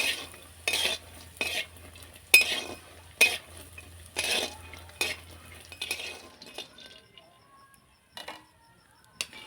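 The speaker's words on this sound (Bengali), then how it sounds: "বড়ি আমার ভাজা হয়ে গেছে" Lentil dumplings (bori) fry in hot mustard oil in a kadai. A soft sizzle sits under a series of distinct, evenly spaced stirring scrapes and clinks, which thin out and grow quieter toward the end.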